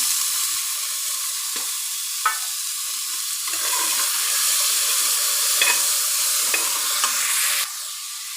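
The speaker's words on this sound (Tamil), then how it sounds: "இப்போ தக்காளி போட்டு நல்லா வதங்கிடுச்சு மொச்சையை ஆட் பண்ணிக்கலாம்" Lima beans sizzle in a pan of sautéed tomato masala, a continuous close frying hiss with a few light clinks and stirring scrapes, then the sizzle drops slightly near the end.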